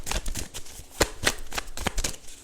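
Tarot cards handled and shuffled during a reading, a close, crisp series of papery riffles and snaps with an uneven rhythm, no voice over them.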